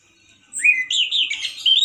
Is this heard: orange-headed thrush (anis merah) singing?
yes